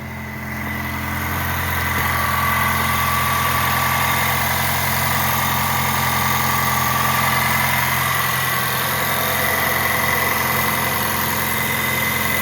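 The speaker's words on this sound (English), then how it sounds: "You guys can look at the engine running." The engine of a 2024 Toyota Tacoma pickup idles steadily after starting, a continuous close mechanical hum with a faint whine, unchanging over about twelve seconds with no talking.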